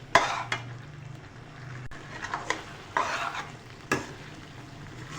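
Pearl millet chutney fries in a pan as a spoon stirs and scrapes it, giving a steady soft sizzle broken by several distinct scraping strokes, with no talking.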